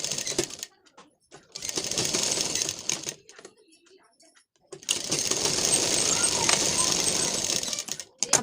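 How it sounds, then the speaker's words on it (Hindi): A sewing machine stitches a lined blouse in long, close, buzzing runs of rapid needle clatter, with a quieter gap of light handling noise between them. "अब इसकी सिलाई करेंगे"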